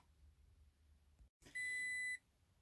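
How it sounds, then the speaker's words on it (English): A Toyota Tacoma TRD Pro's door-ajar warning gives a steady electronic beep tone that holds for about half a second, sounding close and clear over a low background hum. "you can turn off that beeping sound by simply pressing this button on the side of your door"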